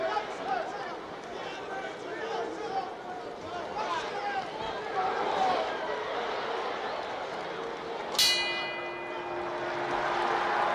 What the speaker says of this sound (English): There's the bell and the end of round 6